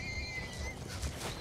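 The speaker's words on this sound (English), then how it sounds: "And there go our horses. And your horses ran away." Horses in the video game Minecraft Story Mode neigh and gallop off, a shrill whinny over a few low hoof thuds, fairly faint and without speech.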